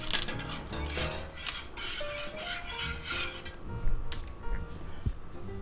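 Oil being stirred around a cast iron skillet over a medium burner, a steady scraping and rubbing of a utensil against the iron with light metallic clinks, close and continuous.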